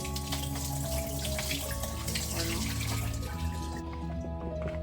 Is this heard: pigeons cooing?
no